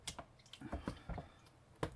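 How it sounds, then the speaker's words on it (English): Untreated leather dipped into water off to one side, giving a few soft wet squishes and drips in irregular bursts, close by and fairly quiet. "I'm gonna dip it in water,"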